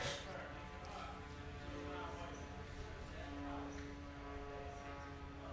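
A Stinson 108 light airplane's piston engine drones steadily in flight, a constant low hum with a propeller beat, heard from inside the cabin at a fairly even level with voices talking over it.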